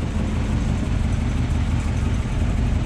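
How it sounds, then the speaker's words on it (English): A restored 1956 Dodge C Series Custom Regal pickup with a 270-cubic-inch Poly V8 and single exhaust runs at a steady, close idle: a constant low rumble, even and unbroken, with no voices. "Sounds great. Again, that Poly V8 270 cubic inch."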